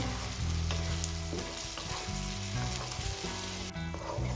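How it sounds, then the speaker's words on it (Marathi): Ginger garlic paste sautés in a hot pan for Mumbai street-style pav bhaji, producing a loud, dense, close sizzle throughout, with steady tones of background music underneath. "आता या स्टेजला आपल्याला अद्रक लसणची पेस्ट ऍड करून घ्यायची आहे परतून घ्यायचे आहे एक ते दोन मिनटं"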